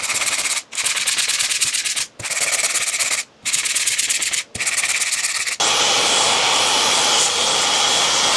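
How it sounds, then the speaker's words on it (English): A car body panel on a wrecked Jetta being hand-sanded with 220 grit sandpaper, loud steady rasping strokes broken by short pauses, then a continuous harsher sanding stretch; no voices. "I'm going to go in with 220 grit sandpaper to make sure everything's smoothed out"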